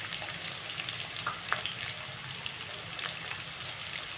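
Cut green chillies fry in a hot pan, giving a soft, continuous sizzle close by with faint pops and light stirring clicks scattered through it.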